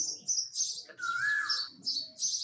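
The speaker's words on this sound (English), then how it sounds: "See how the parent bird struggles to feed the fledglings." Sparrow fledglings chirp in rapid, high repeated calls at a balcony nest while a parent bird struggles to feed them, with a clearer, longer call in the middle, close and fairly loud.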